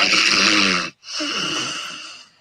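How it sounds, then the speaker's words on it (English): Two loud, rasping snores, the first long and harsh, then a brief gap and a second drawn-out snore that slowly fades. "snoring."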